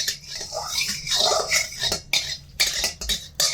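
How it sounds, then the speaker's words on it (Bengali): A utensil stirs ghee melting in a karai for carrot halwa, making irregular close clinks and scrapes against the metal pan in short bursts, with no speech. "ঘিটা একটু নেড়ে চেড়ে গলিয়ে নেব।"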